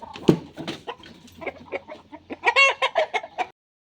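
Aseel hens cluck in a pen, a run of short, loud, close calls that grows busier and more insistent toward the end, with no other sounds.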